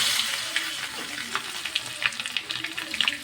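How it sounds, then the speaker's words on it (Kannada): Garlic goes into hot oil already crackling with mustard seeds and cumin, giving a continuous sizzle dotted with sharp pops and spatters, fairly close and steady with no talking. "ಸಾಸಿವೆ ಜೀರಿಗೆ ಹಾಕ್ಕೊಂಡು ಚಟಪಟ ತಿಡಿದ ತಕ್ಷಣ ಬೆಳ್ಳುಳ್ಳಿ ಹಾಕೋತೀನಿ ರೀ"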